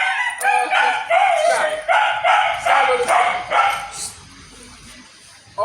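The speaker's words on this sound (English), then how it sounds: "Who is barking?" Several household dogs bark in a quick run of sharp, loud yips close by, roughly eight bursts before they trail off into near quiet, with a brief spoken word over them.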